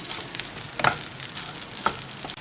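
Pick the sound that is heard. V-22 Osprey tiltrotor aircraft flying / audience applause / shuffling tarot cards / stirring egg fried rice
stirring egg fried rice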